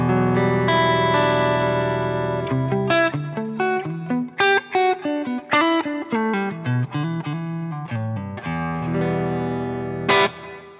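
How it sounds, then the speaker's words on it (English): Electric guitar played through a Vertex Effects Steel String Clean Drive pedal, lightly driven chords and single notes in a steady, close phrase with a brief sustained swell near the end, no talk. "I can bring in the Vertex Effects steel string clean drive, which sounds like this."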